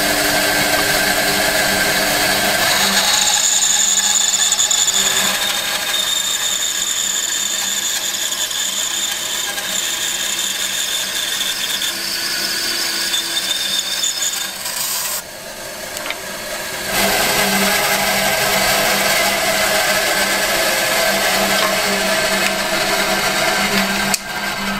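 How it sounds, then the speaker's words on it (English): A power saw cuts through a wooden slab to make knife handle scales, droning loudly and continuously with a brief dip partway through before the cut resumes, no speech. "So we've now sawn our two scales."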